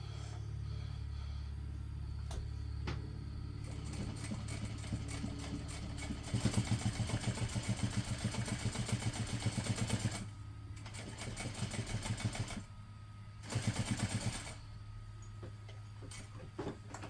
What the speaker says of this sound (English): we're just going to top stitch along that seam using an 1/8 of an inch seam allowance.